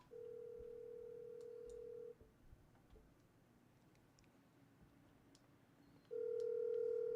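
Ringback tone of an outgoing phone call, one long steady tone for about two seconds, a quiet gap with faint background noise, then the tone starting again near the end.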